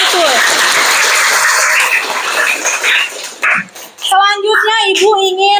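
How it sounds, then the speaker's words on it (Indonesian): A classroom group claps loudly and steadily for about four seconds, a dense burst of applause mixed with children's chatter before a clear voice speaks over it. "tepuk tangan untuk kelompok 1"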